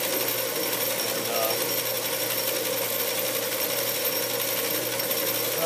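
Metal lathe taking a fine cut with a cheap Harbor Freight tool in a shop-made tool post, a steady loud rattling drone with slight vibration from a drive pulley, running unbroken throughout.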